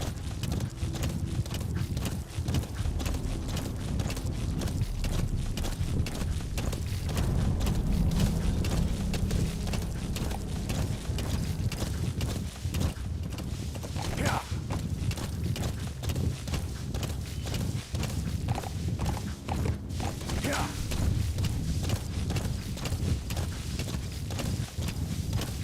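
A horse in Metal Gear Solid V clip-clops along at a steady, rapid pace, hooves drumming continuously and fairly close, with occasional brief whooshing game sounds on top.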